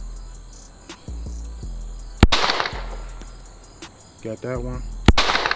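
A pistol fitted with a Cylee Wolf X Pro red dot sight fires two slow, spaced shots, each a sharp, loud crack with a brief ringing tail, and someone speaks briefly between them.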